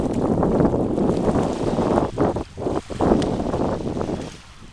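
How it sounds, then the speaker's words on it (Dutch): A small fishing boat enters a harbour near a dike under strong, loud wind buffeting the microphone, a dense rumbling roar with brief dips near the end. "En dan komt de visserskot er binnen."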